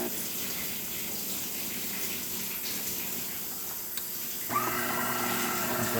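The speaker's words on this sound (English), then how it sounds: "as you can see, steady flow coming out of the machine." Espresso streams steadily from a DeLonghi coffee machine during a test shot with finely ground coffee, a thin continuous trickle and hiss with machine hum that grows louder and fuller near the end, close by with no talking.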